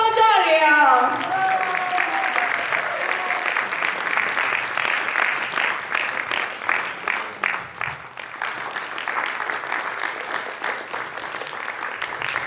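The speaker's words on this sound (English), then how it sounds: "give a big round of applause for my next person coming on stage, Miss Rekha Macharia." Audience applause at the Gujarati Unity Festival 2025, a sustained wash of clapping from a large crowd that holds steady for the full length, with a brief musical tone fading at the start.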